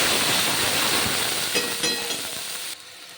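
Spice paste frying for a Bengali fish curry gives a steady, close hiss and sizzle that runs alone for about three seconds, then drops away suddenly near the end.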